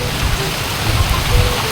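Rain falls steadily in an outdoor village setting in West Java, a dense broadband hiss with low rumbling underneath, moderately loud and continuous with no voices.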